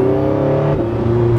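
A Porsche 918 Spyder hybrid supercar with its roof off, its engine holding a loud, steady droning note that dips briefly and rises again, heard up close.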